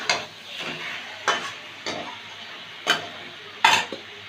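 Potatoes tossed with spices in a frying pan for an egg curry: a soft sizzle under five or six distinct spatula scrapes and clacks against the pan at irregular intervals, close by, the last one loudest.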